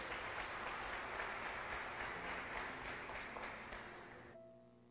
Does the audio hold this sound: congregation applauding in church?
yes